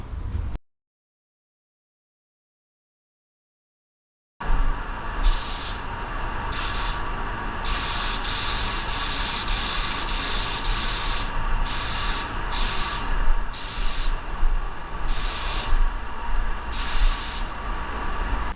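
A spray gun lays a copper metal flake paint coat in a steady loud hiss after a few seconds of silence, with pulsing bursts as the trigger is worked, close up, with no talking.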